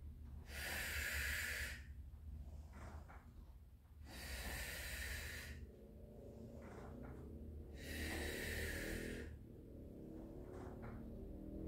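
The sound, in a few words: breathing during a reformer Pilates workout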